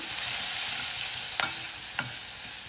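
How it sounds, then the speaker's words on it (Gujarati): Potatoes in a pan being stirred with ginger and turmeric make a close, continuous sizzling hiss, broken by two sharp scraping knocks of the spoon against the pan, with no voices. "હવે પ્રોપર મિક્સ કરી દઈએ."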